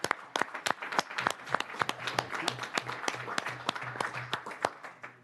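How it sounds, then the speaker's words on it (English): Audience applause in a state House hearing room during a criminal justice committee session, a patchy run of individual claps from a modest group, fairly close and steady, with no talk over it. "Would y'all please stand up so we can give you a round of applause if you're here?"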